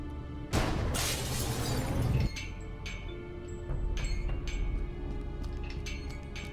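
Glass panes above a laboratory door in the Cthulhu adventure game Gibbous shatter in one loud crash lasting about two seconds, followed by scattered tinkling shards and clinks settling over a low hum.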